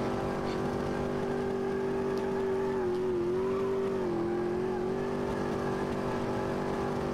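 Race car engine held in second gear in the racing game Automobilista 2, a steady loud tonal whine with slight pitch dips as revs waver, continuous and close for the whole stretch.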